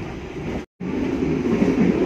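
KA Pasundan passenger train rolling through East Java toward Jombang station after Mojokerto, a steady rumble of wheels and carriage noise heard from inside, with a brief cut near the start.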